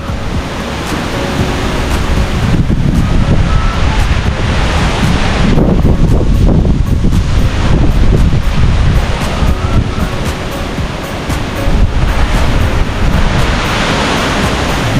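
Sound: strong wind during Typhoon Pepito

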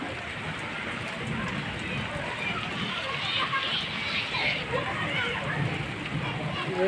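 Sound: heavy rain falling in Delhi

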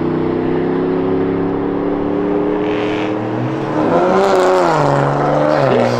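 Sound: single cab truck and Infiniti Q50 racing, accelerating

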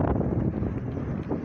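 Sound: strong wind blowing around a wind turbine

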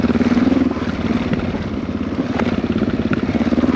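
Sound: motorcycle engine restarted and running

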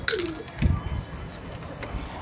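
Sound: pigeon cooing

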